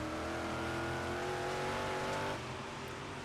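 Big Block Modified race cars roar around the Volusia Speedway dirt track on the final lap of a 50-lap race, a dense, continuous engine drone close by that eases slightly near the end.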